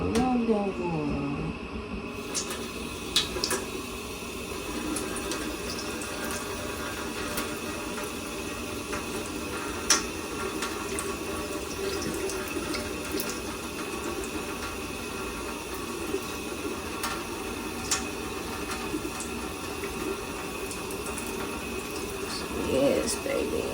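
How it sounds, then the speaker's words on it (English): Water poured at a riverside campsite for beginners, a continuous soft splashing trickle running throughout, with voices talking faintly in the background. "Put a little bit of water."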